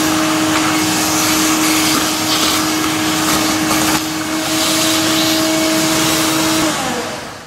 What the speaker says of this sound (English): I'm gonna go grab a shop vac and get rid of all that.